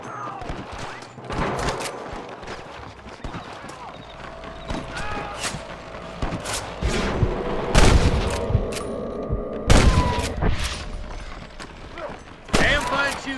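Scattered gunshots crack out during a Western shootout in Red Dead Redemption, with sharp reports spaced irregularly over game ambience and a voice in the mix.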